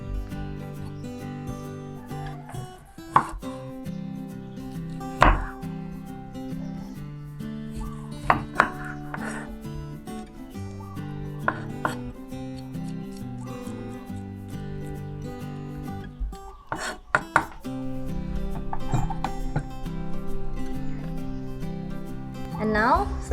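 Knife chopping through lemongrass stalks on a cutting board during Thai sardine salad prep, with sharp, irregular cuts over steady background music and occasional talk.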